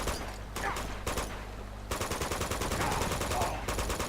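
Rapid automatic gunfire in Uncharted 2: Among Thieves, dense rattling bursts of shots with brief pauses between volleys, moderately loud game combat.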